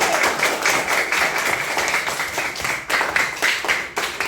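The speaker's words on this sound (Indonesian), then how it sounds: "Kita tepuk tangan sekali lagi." An audience at a school teaching-practice session claps continuously for a few seconds, a dense, fairly close patter of many hands without pause.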